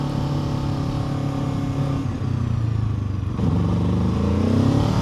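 A Kawasaki Ninja 7 Hybrid motorcycle accelerates with its electric boost engaged, a close steady engine drone rising in pitch as it gains speed, with a slight surge partway through.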